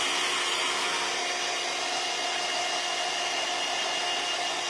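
Hair dryer blowing on freshly painted wood shim craft, a steady loud whooshing hiss of air and motor running continuously without pause, close to the listener, with no talking.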